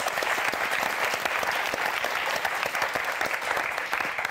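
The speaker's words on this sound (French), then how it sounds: "Olivia, qu'on va applaudir très fort." A television game show studio audience applauds loudly for the set decorators, with dense, energetic clapping that holds steady throughout.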